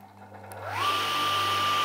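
An Einhell benchtop table saw sitting on a workbench starts up, its motor whine rising quickly in pitch, then settling into a steady, fairly quiet running hum with no cutting.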